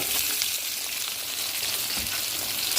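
Chopped onions frying in hot oil with bay leaf in a pan, a steady dense sizzle that holds evenly for the whole stretch with no voices.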